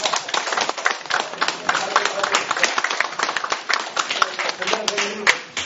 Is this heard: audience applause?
yes